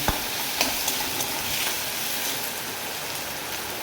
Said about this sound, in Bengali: আমি টমেটো কুচিটা দিয়ে দেবো। একটু ভালো করে নেড়ে চেড়ে নেব।